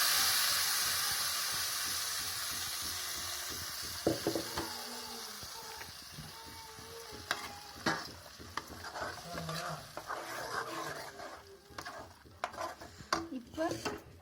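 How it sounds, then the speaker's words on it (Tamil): Tomato, onion and coconut paste sizzles and fries in a hot pan, a steady hiss with clinks and scrapes of a stirring utensil against the pan growing busier toward the end. "தக்காளி, வெங்காயம், தேங்காய் இந்த அரைச்சி வச்சு பேஸ்ட்டை சேர்க்குறோம்."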